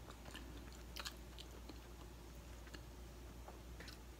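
Someone bites into and chews a fresh strawberry yogurt Krispy Kreme doughnut close up, giving soft wet chewing with a few crisp bite clicks over a low steady hum, faint and with no talking.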